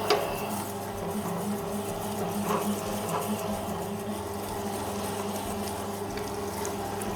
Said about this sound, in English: Now I'm going to grind it up, and I'm going to start with a coarse grind.